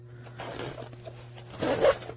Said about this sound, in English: but it works fine and it zips back up okay